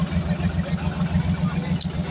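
A modified Mahindra 265 tractor engine runs at a steady, loud, close idle with an even low throb, and a brief click cuts in near the end.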